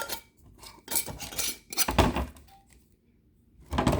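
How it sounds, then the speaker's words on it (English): A glass jar of frankincense tears and oil is handled and its lid closed, giving a few clinking, knocking taps of glass and metal in separate bursts, close and fairly loud. "We're going to close that lid."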